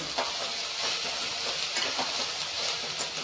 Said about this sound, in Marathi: आता आपण हे सगळं मिक्स करून घेऊ परतून